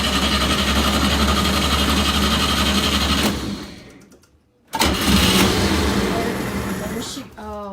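An engine cranks with a fast, steady whirring from the starter motor, pauses briefly, then cranks again without catching, with people talking close by.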